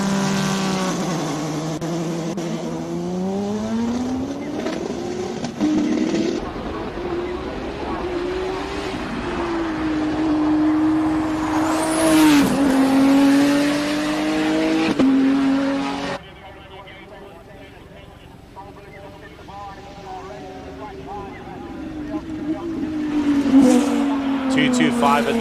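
A race car at the Simola hill climb accelerates hard uphill. Its engine rises and drops through repeated gear changes, and a commentator talks over it throughout.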